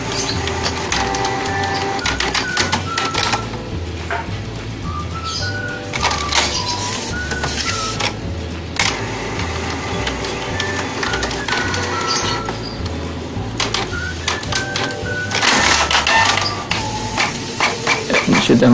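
A Canon Pixma iP2770 inkjet printer printing with a faulty cartridge, giving loud, close mechanical whirring, stepping motor tones and clicking carriage runs in repeated bursts with brief pauses.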